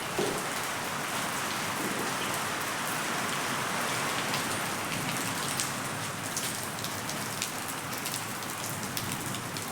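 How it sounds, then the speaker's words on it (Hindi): Steady rain falls heavily and evenly, a dense continuous patter with no voices, close and constant throughout. "बारिश हो रही है"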